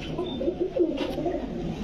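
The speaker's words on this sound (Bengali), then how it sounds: "এগুলো সব হাই ফ্লায়ার কবুতর" High-flyer pigeons coo softly and continuously in a loft, a low rolling repeated cooing from several birds close by, with no talk.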